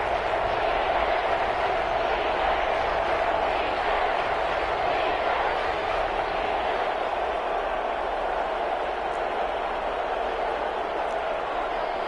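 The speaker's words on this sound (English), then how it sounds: "That just means this crowd's going to get even louder" Football stadium crowd roaring steadily during a playoff game, a dense, continuous wash of cheering at constant loudness with no clear breaks.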